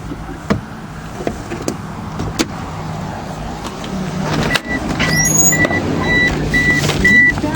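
A vehicle's reversing beeper sounds in the second half as a run of evenly spaced high electronic beeps. Sharp knocks and clicks from work on a car come first, over a low engine hum.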